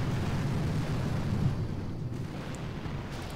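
A deep rumbling explosion in the Boom Beach mobile game rolls on as a continuous low boom with a slowly fading tail.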